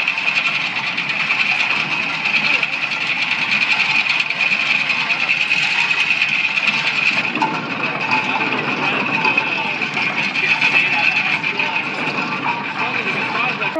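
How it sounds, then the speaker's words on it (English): The Saugatuck chain ferry hauls itself along its chain in a steady, loud mechanical drone with a constant whine, running unbroken for the whole stretch with no one talking. "They spin it around. The chain moves."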